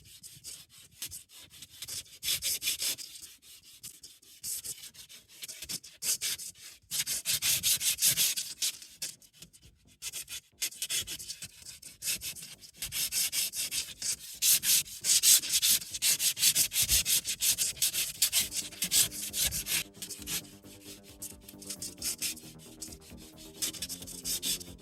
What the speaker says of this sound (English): Doing dry sanding.